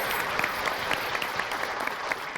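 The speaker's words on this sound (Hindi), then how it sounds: "एक बार इन बच्चों के लिए जोरदार तालियां बजाइए।" Loud applause from an audience for children after a poetry competition in a TV sitcom, a steady, dense clapping wash with scattered sharper claps, sustained and fairly distant.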